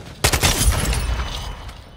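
A loud gunshot in the Modern Warfare 2 video game, one sharp report followed by a rumbling burst of further fire that fades out over about a second and a half.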